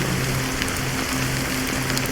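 Rain falls steadily in Honkai Star Rail, a dense even hiss of drops on surfaces with a faint low hum underneath and no voices.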